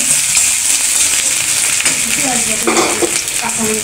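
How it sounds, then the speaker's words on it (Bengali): Spice paste for a chital fish curry fries in a pan, a loud, steady close sizzle with stirring scrapes throughout. "মশলাটা এখন একটু ভালো করে ভেজে নিবে"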